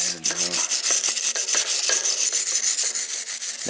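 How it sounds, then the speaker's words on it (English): Wire toothbrush scrubbing rust off the drivetrain of a Trek mountain bike, a steady run of quick, close raspy back-and-forth strokes with no voices. "I'm just going to take my wire toothbrush and just kind of clean up all in here"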